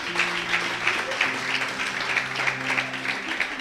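A church congregation applauds steadily, with a dense wash of clapping and faint sustained tones from an instrument or voices underneath, held at an even level throughout.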